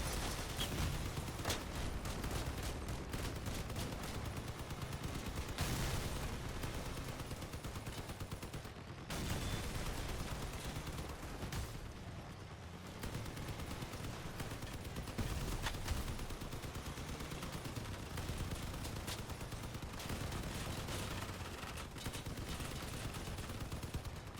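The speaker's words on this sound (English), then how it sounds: "These medium machine guns really do good work to anything you're shooting at." Medium machine guns firing in the vehicle combat game Crossout, a dense, continuous rattle of automatic fire with brief pauses between long bursts and no voices.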